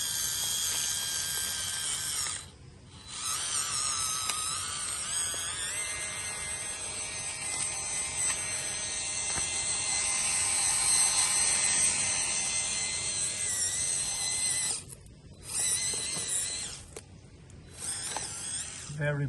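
An FMS 1/12 scale RC British Army 1/2 ton truck's electric motor whirs steadily and loudly for most of the stretch, pausing in a few short gaps before resuming, with a rising and falling whine and no talk.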